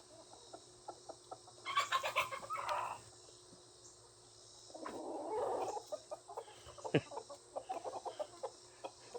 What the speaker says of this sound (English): Cornish cross came over to scratch and eat.